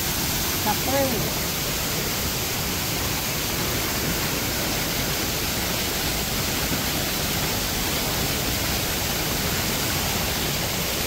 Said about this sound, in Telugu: ఈ టన్నెల్లో నుంచి వాటరు అక్కడున్న టన్నెల్లోకి ఇలా ఈ ఫ్లోర్ మీద నుంచి పంపిస్తున్నారు